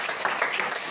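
Applause at a Ram Navami katha gathering in a home in Rolleston, a steady wash of many hands clapping throughout, fairly dense and moderately loud, with no speech over it.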